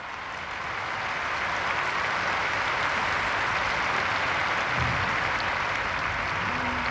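A big congregation in Rome applauds for the Eastern Christians on their Easter, dense and continuous clapping that swells in the first second and then holds steady.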